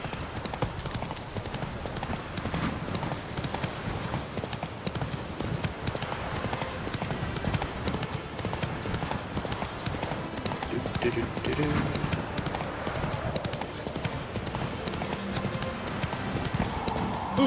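Hooves of the horse Roach trotting in the video game The Witcher 3, a steady clip-clop rhythm throughout with game ambience and a voice speaking over it.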